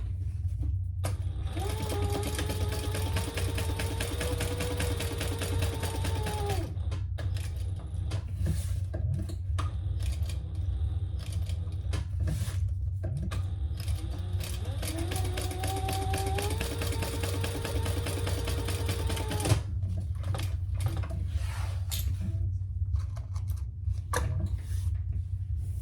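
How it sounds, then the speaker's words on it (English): A sewing machine top-stitching a folded, flattened seam on a crossbody bag, running in two long steady bursts over a constant low hum, with no voices. "We're still going to fold that over and top stitch the seam nice and flat."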